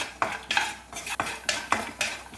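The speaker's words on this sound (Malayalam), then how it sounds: "ഇപ്പം നമ്മുടെ കാഷ്യൂനട്ടും ആവശ്യത്തിന് തന്നെ ഒന്ന് ഫ്രൈ ആയിട്ട് വന്നിട്ടുണ്ട്" Cashew nuts frying in oil for a poha chivda mixture, stirred in a rhythmic series of about seven scraping strokes against the pan over a soft sizzle, close and clear, without speech.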